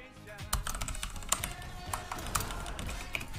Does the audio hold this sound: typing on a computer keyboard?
yes